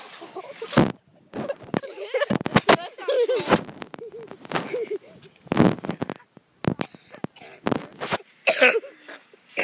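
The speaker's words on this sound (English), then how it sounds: "Why are you coughing into the camera?" Several sharp, rough coughs burst out close by, scattered among throaty noises and background talk.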